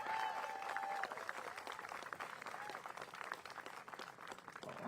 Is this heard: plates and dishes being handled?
no